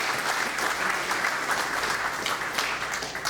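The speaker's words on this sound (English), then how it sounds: "I think they all deserve another round of applause for their actions" A crowd at a high school athletic Hall of Fame anniversary event gives the committee a round of applause, a dense, even wash of clapping that holds steady throughout.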